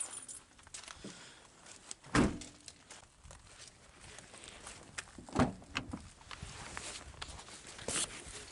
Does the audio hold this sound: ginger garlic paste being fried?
no